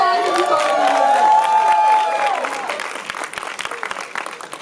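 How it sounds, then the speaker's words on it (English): Audience at a Tyler Perry 'Nobody's Fool' movie premiere cheers and whoops, then breaks into scattered, lively clapping that thins out toward the end, loud and close with crowd noise. "round of applause if you thought it was good"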